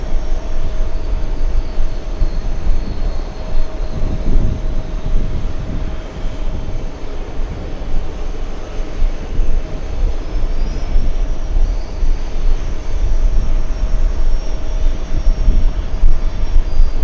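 A Swiss airliner arriving near LA airport, its jet engine roar steady and loud throughout, a broad continuous rumble with a faint whine, no talk over it.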